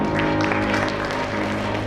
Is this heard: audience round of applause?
yes